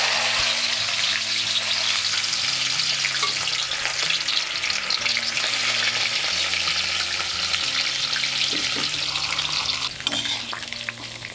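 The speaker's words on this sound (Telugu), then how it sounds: "లైట్గా వేయించుకోవాలి." Tender okra (bendakaya) frying lightly in hot oil, a loud, even crackling sizzle that holds steady for several seconds, with occasional utensil taps and a slight drop near the end.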